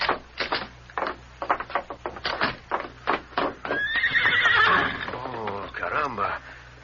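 Horse hooves clip-clop in an uneven series of sharp knocks, then a loud, wavering neigh rises and trails off, with a person talking under and after it.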